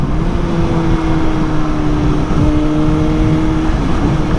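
Suzuki GSX-S 750 motorcycle, fully decatted with the baffle removed, droning loudly at steady speed in third gear at around 3,500 rpm, a continuous close engine note with a slight dip midway.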